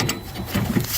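Steel bolt being worked out of the upper control arm on a Toyota Land Cruiser LC200 Sahara, giving a close, continuous grinding and ratcheting metallic scrape with small clicks through the second.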